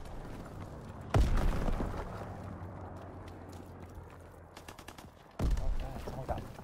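Gunfire in Call of Duty WW2 on PS4 Pro, with two loud, close bursts about four seconds apart, sharp shots rattling off between them over a steady battle din, while people talk.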